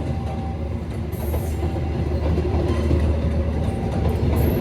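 A passenger train with a plain-liveried dining car rolls steadily past nearby on the Jogja line, a loud continuous rumble with faint wheel clatter and a brief high squeal.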